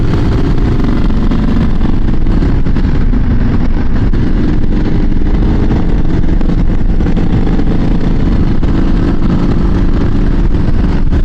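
A Triumph SS 900 motorcycle taken around a corner at about 50 mph, heard as loud, steady engine drone mixed with heavy wind rumble throughout.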